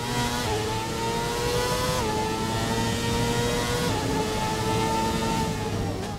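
Formula 1 race cars battling for the lead in F1 2017, a continuous loud, high-revving engine whine that rises through the gears with quick shifts, several cars roaring close together.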